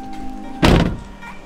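Power window in a Mk4 Supra, a brief loud mechanical burst lasting about a quarter second, close and alone, with no talk.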